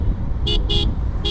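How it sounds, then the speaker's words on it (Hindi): Vehicle horns honk in city traffic, three short loud beeps in quick succession over a constant low hum of engines and road noise. "इतना देर से हॉर्न दे रहे हैं।"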